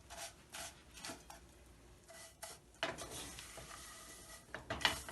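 Vermicelli roasting golden in a pan over slow heat for dood wali sewayyan, with soft scraping and stirring clinks of a utensil against the pan over a faint sizzle, quiet and close, in intermittent strokes.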